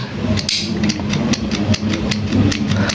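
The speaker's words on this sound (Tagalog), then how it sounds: "pagka nag-i-starter ka na or ini-start mo na yung motor mo" A Honda TFX motorcycle engine is started and runs with a rapid, even mechanical clatter of regular ticking beats over a low hum, close and loud throughout.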